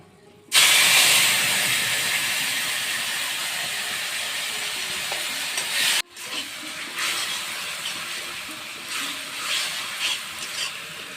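Spice paste diluted with water hits a hot pan and sizzles loudly in a sudden broad hiss that slowly fades, then continues as a softer crackling sizzle after a brief stir.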